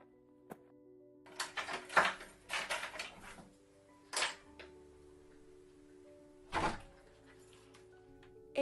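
Knocks and bumps at a house door, a few separate hollow thuds and clatters spaced irregularly, fairly close over a quiet room with a steady low hum.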